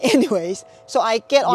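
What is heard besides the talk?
None of the usual background noises is heard.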